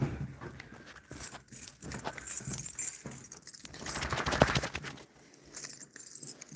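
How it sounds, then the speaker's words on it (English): A bunch of keys jangles close by in a hallway, with irregular metallic rattling bursts that swell and fade over several seconds. "Alright, let me get the keys out."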